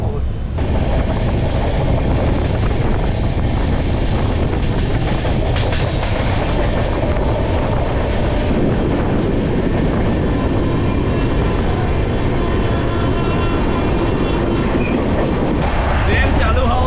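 A moving passenger train bound for Puri rumbles steadily throughout, with a dense continuous roar and faint rhythmic clatter of the wheels, heard from inside the carriage with no one talking.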